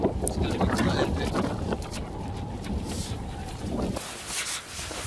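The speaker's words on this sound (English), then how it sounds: "we've got about 30-40 mph winds at the moment" Strong 30–40 mph wind at a wild camp in Wales buffets the microphone in loud, gusty rushes and rumbling bursts for a few seconds.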